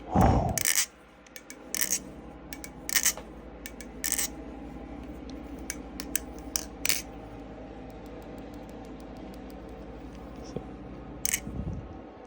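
Crisp metallic clicks and snaps ring out sporadically over a low steady hum as a folding knife blade is flicked open and snapped shut several times.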